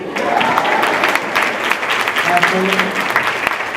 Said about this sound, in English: So you can go ahead and applaud that if you like.